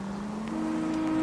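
A car engine in the video game L.A. Noire drones steadily at close range, a low, even hum that swells slightly louder toward the end, with no talking over it.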